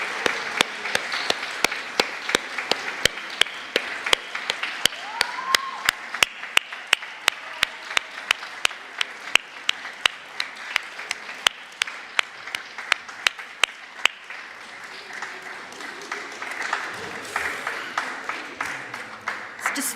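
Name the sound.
audience applause for a family coming to the front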